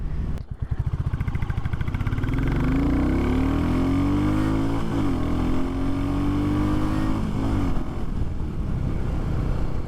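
A Royal Enfield Classic 350 motorcycle accelerates hard through its smooth gearbox, the single-cylinder thump rising steadily in pitch with a brief shift midway, loud and close throughout with no talking.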